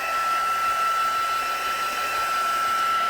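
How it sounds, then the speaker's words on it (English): A heat gun blows steadily to dry craft paint on a bauble project. It makes a continuous close, loud, even whine and rush of air with a fixed tone and no pauses. "So we're just going to run the heat gun over it a bit and see if we can just encourage it to dry a bit quicker for us."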